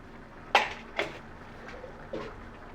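A metal spatula stirs small mourala fish with homemade spice mix in a kadai, giving a few sharp, quiet clinks and scrapes spaced apart against near silence.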